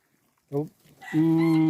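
Goats on a Thai farm bleat twice, first in a short call and then in a longer, sustained nasal bleat, close by against a quiet background.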